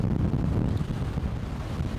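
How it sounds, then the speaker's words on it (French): Strong wind buffets the microphone aboard a sailboat at sea in about 20 knots, sailing under a half-furled genoa alone; a steady, dense low roar with water rushing beneath, continuous and close. "Il y a toujours 20 nœuds de vent, c'est toujours pas très stable."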